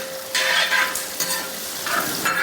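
Ginger and curry leaves sizzle and crackle in hot oil for mango pickle, with steady frying hiss and bursts of spoon stirring against the pan, close and fairly loud, no voices.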